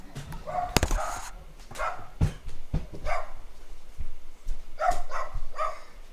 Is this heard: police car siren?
no